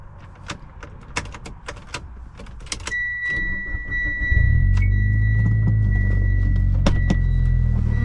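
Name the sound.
2011 Mitsubishi Lancer Evolution GSR engine starting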